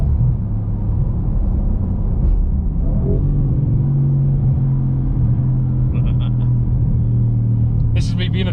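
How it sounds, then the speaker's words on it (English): A 720bhp 2020 Audi RS6 rumbles steadily on the move, its deep exhaust drone loud and close throughout, rising slightly in pitch as it accelerates, with a few faint higher squeaks near the end. "This is me being a chav in a RS6."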